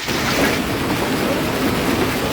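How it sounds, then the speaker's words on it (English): Golf ball-size hailstones pelting down during a storm in the Old Mill District of Bend, Oregon, a dense, continuous loud roar of impacts with no pauses and no talk. "hail pelted the Old Mill District"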